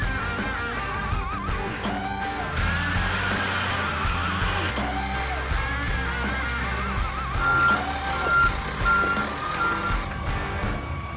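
Dump truck on a test drive, with repeated reversing beeps sounding over an idling, rumbling engine, a short whistling tone and hiss of air brakes mixed in, all at moderate loudness.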